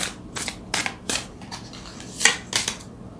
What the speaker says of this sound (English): So let's get another card.